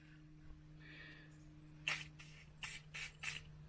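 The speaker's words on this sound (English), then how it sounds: "Quickly blast these bolts with some PB Blaster" PB Blaster penetrating oil is sprayed onto corroded bolts on an abandoned Husqvarna in about five short, close hissing bursts, each under a second, over a faint steady hum.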